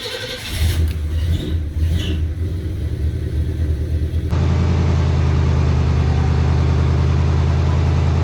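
A fire-damaged diesel Oldsmobile 98 engine cranks with a short churning whir, then catches and settles into a loud, close, rough rumbling idle that grows fuller and steadier toward the end.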